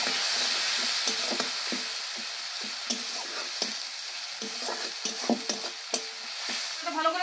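Tomato sautéing in a pan with salt, turmeric and Kashmiri chilli powder, a soft hiss of frying under irregular scrapes and taps of a spoon stirring the mixture.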